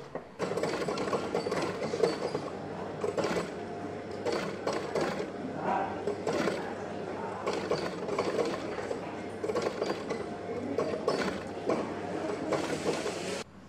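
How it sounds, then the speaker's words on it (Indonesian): A sewing machine stitches small and large sandal upper lining pieces together, running in steady mechanical bursts with brief pauses and restarts, close and continuous throughout. "Ini untuk menggabungkan yang kecil dengan yang besar ini ya. Yuk kita jahit dulu."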